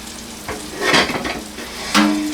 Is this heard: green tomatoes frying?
yes